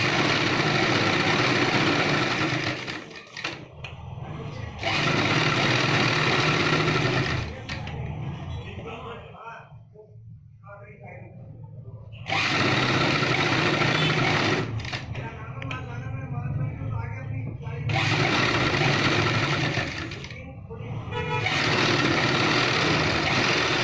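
A sewing machine runs in several sustained bursts while stitching a back neck design on a garment, with short pauses between runs and a voice talking over it.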